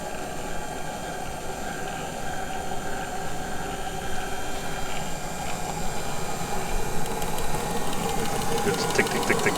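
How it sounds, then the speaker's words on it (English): A model turbine jet engine for a radio-controlled Sebart jet starts up with a dense, steady roar that builds gradually, accompanied by a faint ticking and clicking. "These engines start super fast."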